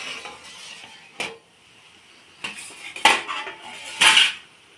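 Metal clatter from opening a steamer pot lid while checking bhapa pitha, with a few sharp clinks and scrapes and brief rattling bursts over a quiet kitchen background.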